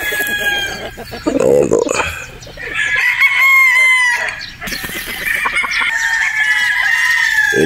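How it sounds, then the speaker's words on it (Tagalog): A Boston Roundhead brood stag rooster crows in loud, drawn-out calls broken by clucks, close up, while someone speaks briefly. "Yung inyong gwapong brood stag, Boston Roundhead."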